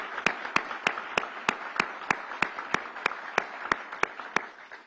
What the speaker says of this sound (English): Let's give our governor a big round of applause.